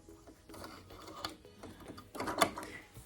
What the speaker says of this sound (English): We're gonna back stitch, and then we're going to clip our threads.